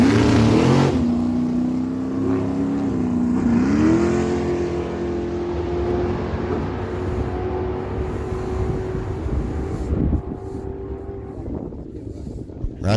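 A Race Tech dragster making a solo bye run down a drag strip, a loud steady engine roar with rising pitch that carries on for several seconds before fading off into the distance.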